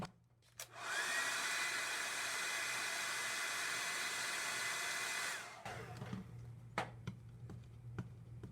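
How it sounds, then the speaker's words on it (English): A blow dryer switches on and runs with a steady loud whir for about five seconds, heating a sticker on a book, then stops, followed by a few light taps. "I'm just going to hit it again with the blow dryer"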